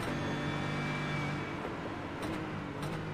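A GT3 race car engine in a sim racing game at Road Atlanta drones steadily at mid pitch, its tone shifting slightly as the car lifts and coasts, with a faint background hum throughout.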